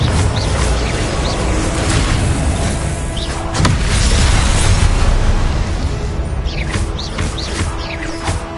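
Confringo blasting curse explosions in the video game Hogwarts Legacy, a dense, loud rumble of booms and bursting crashes layered continuously, with sharper pops and whooshing streaks breaking through now and then.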